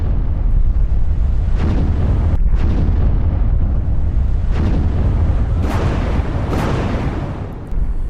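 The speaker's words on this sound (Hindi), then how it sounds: "दर्शकों देखिए अब इजराइल कैसे धमाके कर रहा है, सुनवाइए जरा।" Heavy, continuous booming explosions from airstrikes rumble close and loud, with several sharper blasts standing out over a dense low roar.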